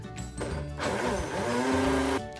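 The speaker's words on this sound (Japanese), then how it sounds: "かぼちゃとベジブロスを入れてミキサーにかければ出来上がりです。" A blender whirs through pumpkin and vegetable broth for a soup, a short run of a couple of seconds that starts in stuttering bursts and settles into a steady, close, loud drone.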